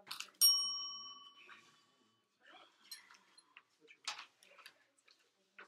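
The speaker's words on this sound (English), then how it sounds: "We just found a bell." A small bell found during a policy debate judge session gives one clear bright ring that sustains and fades, followed by quiet ticking, clinks and voices talking in the background.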